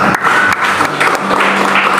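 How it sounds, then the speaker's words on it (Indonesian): A congregation at a worship service in a Jakarta apartment hall bursts into loud, close applause, a dense continuous clatter of many hands with a few voices mixed in. "Berikan tepuk tangan."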